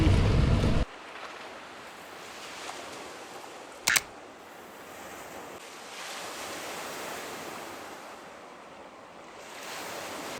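Waves lap softly at the shore in Avalon on Catalina Island, a steady low wash with a brief loud burst at the start and a sharp click partway through.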